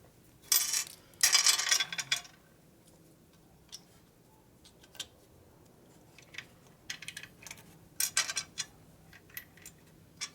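Metal nuts and flat washers clinking and rattling as they are handled during a 1965 Harley-Davidson Panhead motor rebuild, sharp bright jingles in short bursts with quiet gaps between.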